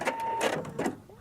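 A sewing machine stitches a quilt piece for a Dresden plate block in a few quick, quiet mechanical bursts lasting about a second.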